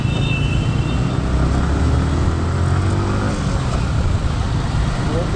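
Dense Bengaluru road traffic rumbles steadily close by, a constant wash of engines and passing vehicles with no single sound standing out.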